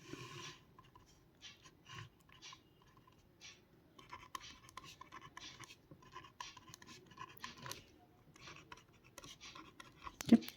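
Soft marker or pen strokes on a board while memory IC connections are drawn, a faint, steady scratching and rubbing that continues throughout with short pauses.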